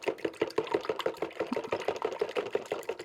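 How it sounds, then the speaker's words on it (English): Eggs being whisked in a bowl to make homemade fishing bait: quick, even rhythmic taps of the whisk against the sides, close and distinct, repeating about five times a second with no talk. "all we want to do is whisk those eggs up"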